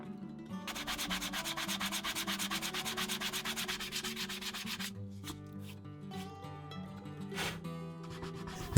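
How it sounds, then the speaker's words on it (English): Fine sandpaper rubs along the beveled edges of a leather handbag in quick, even back-and-forth strokes for about five seconds. Soft music plays throughout. "bevel them down and use some fine sandpaper to even out any blemishes"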